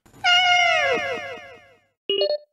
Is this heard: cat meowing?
yes